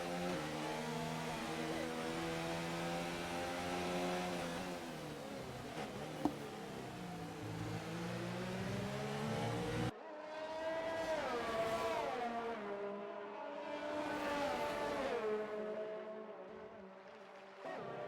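An F1 race car engine in a racing video game on a wet Australia circuit screams through steady high revs, then rises and falls as it accelerates and shifts, loud and continuous with no talk over it.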